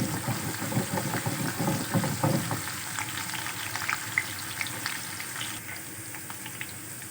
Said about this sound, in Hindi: तेल थोड़ा गर्म हो जाए और साथ ही हम डाल देंगे प्याज